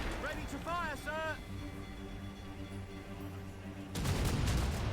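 Ship cannon fire in the Assassin's Creed Rogue naval battle: a low rumbling sea-battle bed under brief talk, then a loud, heavy blast bursts in near the end and keeps booming.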